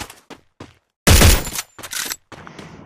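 Video game gunfire: a sudden loud burst of shots cuts in about a second into the clip among short quieter game sounds before and after.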